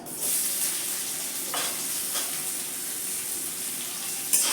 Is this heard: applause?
no